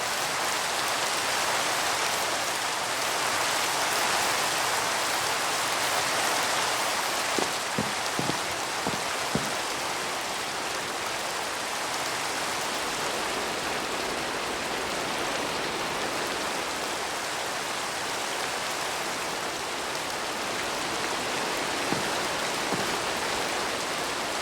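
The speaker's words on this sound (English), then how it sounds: "There's the normal rain noise, which plays when you're exploring the overworld and it begins to rain" Minecraft rain falling in the overworld: a dense, even hiss of steady rainfall that goes on unbroken, with a few faint soft taps and no voices.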